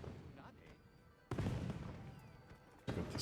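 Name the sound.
fireworks in Monster Hunter video game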